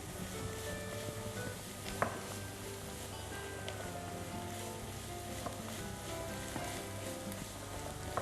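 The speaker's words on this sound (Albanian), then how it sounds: "këtu tani trazojmë së bashku spinaqin, qepën" Spinach and onion sizzle steadily in a frying pan as they are stirred together, a constant soft crackle with occasional clinks of a utensil against the pan, no voices.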